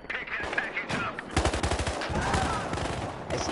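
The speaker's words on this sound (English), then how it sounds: "Oh, they keep shooting at me." Battlefield gunfire rattles in rapid automatic bursts, loud and close, building from scattered shots into dense continuous firing.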